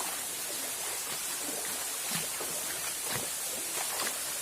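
Small waterfall at Ngarai Rakik in Ladang Laweh, a soft steady rush of falling water, faint and even, with no talk over it.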